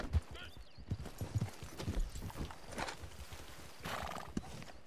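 Horse hooves clip-clop steadily at close range and a whinny breaks in, in the Western video game Red Dead Redemption 2 Online, with faint voices mixed underneath.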